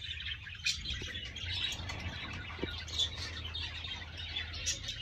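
Bengalese finches in a cage giving soft, scattered chirps over a low background hum, the calls faint and irregular.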